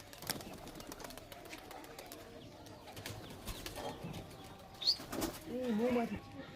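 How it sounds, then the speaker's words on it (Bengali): A racing pigeon takes off from a loft, its wings clapping and flapping in quick bursts amid faint cooing from other pigeons, with people talking near the end. "এই যে পায়রা উড়ালে কতক্ষণের ভিতরে হাইট নেবে?"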